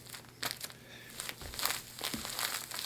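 A crinkly plastic-backed adult diaper is handled up close, giving short bursts of crinkling and rustling that come and go over a few seconds, fairly soft and with no speech.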